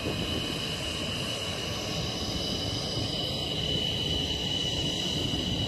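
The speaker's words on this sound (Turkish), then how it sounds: "Uçak yavaş yavaş yaklaşıyor." A steady jet engine roar with a high whine from an approaching MiG-29 fighter jet fills the air, continuous and moderately distant, holding level throughout.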